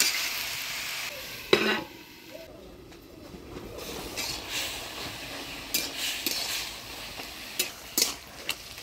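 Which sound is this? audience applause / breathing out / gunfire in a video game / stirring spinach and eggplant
stirring spinach and eggplant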